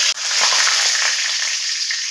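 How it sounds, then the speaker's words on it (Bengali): Whole dried red chillies and garam masala sizzle loudly in hot oil for a soybean and potato curry, a steady bright frying hiss close up after a brief clatter as they hit the pan. "গোটা শুকনো লঙ্কা আর যে গরম মশলাটা রেখেছিলাম ওটা আমি ফোড়ন দিয়ে দিলাম।"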